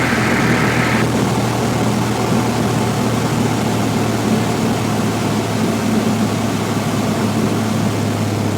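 A Cessna 172F single-engine light aircraft in slow flight at about 1,800 RPM: a steady, loud, unbroken engine-and-propeller drone with a low hum that holds constant throughout.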